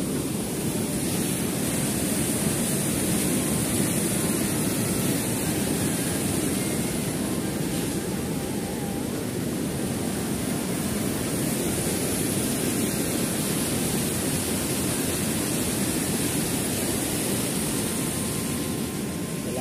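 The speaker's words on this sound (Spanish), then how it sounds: "Por acá está una pequeña cascada, vamos a ver si alcanzamos a ver." A small waterfall on the Yantzaza riverside promenade, swollen with abundant water after rain, roars as a loud, steady broadband rush that continues without a break throughout, with no voices.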